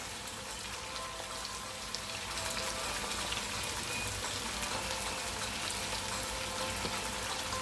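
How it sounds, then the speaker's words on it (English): Carrot and red onion sauté in oil over high heat for Hakka noodles, a soft, dense sizzle that thickens slightly after a couple of seconds and then runs steadily, with no speech. "I'm just going to saute this here"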